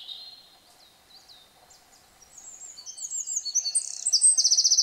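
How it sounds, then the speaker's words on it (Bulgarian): Male songbirds singing in a spring forest reserve, several voices trading whistled phrases and trills that start thin and distant, then swell into a dense, close chorus with rapid repeated notes at the end. "Със своите песни мъжките птици огласят територията си, опитвайки се да привлекат партньорка."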